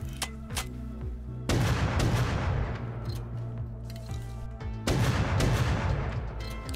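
Loud gunfire in the video game Rust: a few sharp separate shots, then two long rapid bursts that crackle densely and close.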